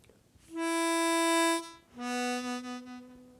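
Harmonica tongue-switching from a sustained 3 blow to a lower 1 draw, two clean held notes with a brief break between them, close and clear with no talking.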